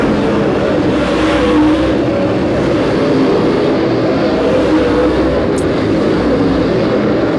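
Race cars battle for position on a racetrack, a loud, continuous engine roar that swells and holds as the cars pass close, with no speech over it.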